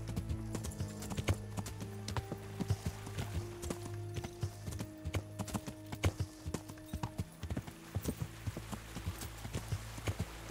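Horse hooves clip-clop steadily and fairly close while riding along a road past a little village in Kingdom Come: Deliverance, the regular rhythmic steps sounding over a low ambient bed with no one talking.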